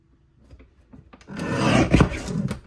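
A paper trimmer slices through card stock for a card kit: a few faint taps and slides, then one louder scraping, rasping cut, close up.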